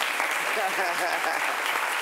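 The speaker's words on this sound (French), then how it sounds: "On peut l'applaudir" An audience at a talk show applauds steadily and densely, a continuous wash of many hands clapping close by with no pauses.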